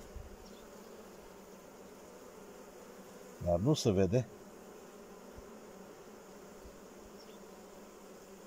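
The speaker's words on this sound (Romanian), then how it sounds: "Albinele, dacă se poate observa, încep să stea pe loc, să dea din aripi" Honeybees buzzing in a hive at an apiary, a brief loud burst of wing buzz lasting under a second against a quiet steady background hum, with a few words spoken nearby.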